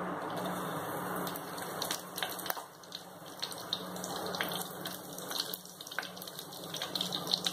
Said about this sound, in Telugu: ఆయిల్ వేడెక్కిన తర్వాత పచ్చిమిర్చి, కరివేపాకు వేసుకుందాము